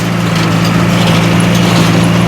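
A loud, steady tractor engine hums and drones continuously at a low pitch nearby.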